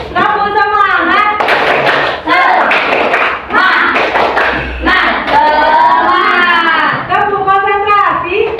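A school class doing the rhythmic tepuk semangat routine, loud close claps and thumps in patterned bursts mixed with children chanting along throughout.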